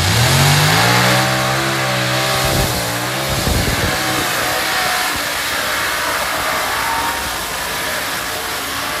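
A 7,000 hp light modified pulling tractor engine revs backstage at the National Tractor Championship, a loud close roar that climbs and falls in pitch, then settles into a steady rumbling idle.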